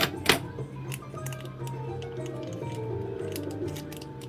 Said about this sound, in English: And now we need scissors.